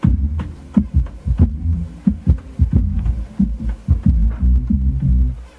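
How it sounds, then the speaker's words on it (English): A deep, thumping bass line sampled from a vinyl record plays alone, its low notes pulsing in a steady groove with a slightly muffled, recorded quality. "So this is kind of what it sounds like, you know, just the bass line as it was on the record."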